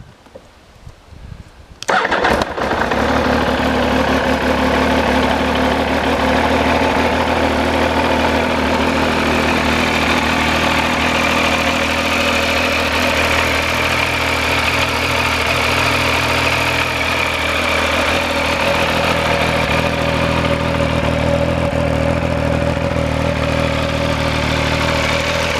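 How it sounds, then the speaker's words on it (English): A motorcycle engine cranks and catches after about two seconds, then settles into a steady, loud idle close by that runs unbroken for the rest of the time, with no talk. "I will just have to hold the clutch in for a second while I start the bike"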